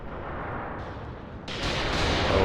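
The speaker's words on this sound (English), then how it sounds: "Those look like incendiary shells" Incendiary artillery shells bombarding positions in the Mius Front war game, a continuous rumbling barrage of blasts that swells louder and brighter partway through, with no voices.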